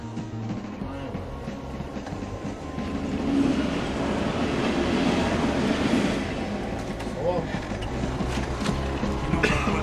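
A train hauled by a Class 37 diesel locomotive rumbles along steadily at night with a low, continuous roar that swells in the middle, with faint rattling and clanking of the carriages.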